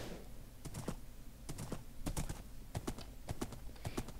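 Irregular clip-clop of horse hooves on a hard surface in Minecraft, sharp close knocks in uneven pairs and clusters over a low rumbling background.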